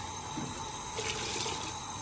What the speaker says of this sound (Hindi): इसमें आधा जग जो है ना पानी का चला गया